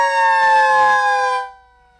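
A siren salute closes a 9/11 memorial ceremony in Eastern North Carolina: a loud, steady multi-tone siren wail holds for over a second, then cuts off and fades quickly to near silence.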